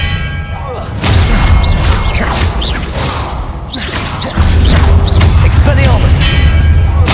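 Expelliarmus spells cast in combat in Hogwarts Legacy: repeated whooshing magical bursts with booming thuds and ringing, bell-like tones over a steady low rumble, with a heavier impact near the middle.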